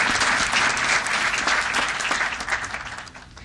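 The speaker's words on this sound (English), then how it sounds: "Let's give her a round of applause." A city council meeting audience applauds teacher Ms. Taylor, a steady wash of clapping from many hands, fairly even throughout and fading slightly at the close.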